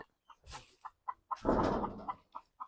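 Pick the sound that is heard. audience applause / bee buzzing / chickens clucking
chickens clucking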